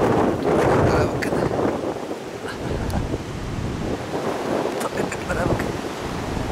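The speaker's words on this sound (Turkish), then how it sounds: "Çok yoğun bir rüzgar var." Strong wind blows into the microphone outdoors where a donkey foal is being watched, a loud rumbling buffet with uneven gusts throughout.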